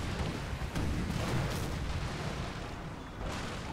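Ship cannons fire canister shot in the naval battle game Napoleon Total War, a rumbling series of booms and bursts under a continuous din of battle, fairly faint and distant.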